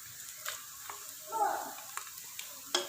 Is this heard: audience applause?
no